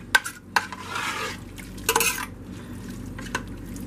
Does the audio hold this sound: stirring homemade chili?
yes